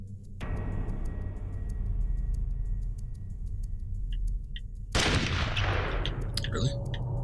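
Gunfire in the stealth game Metal Gear Solid: The Twin Snakes: a steady hum with faint regular ticks, then a sudden loud burst of shots with clattering echoes near the end.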